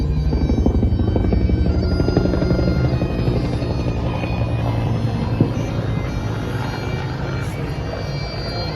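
A helicopter drones overhead at an outdoor Anzac Day gathering in Dandenong, Australia, its steady rotor thrum loud and continuous with no pause.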